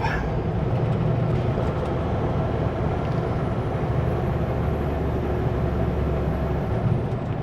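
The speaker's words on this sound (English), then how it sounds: "There's a train down there." Steady low rumble of a container train passing in the distance near Hope, British Columbia, a continuous mechanical drone heard from inside a moving semi truck.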